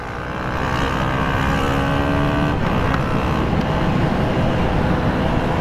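KTM Duke 200 BS3 motorcycle riding along, its engine a steady, loud, continuous drone mixed with road and wind noise, close and unbroken from start to end.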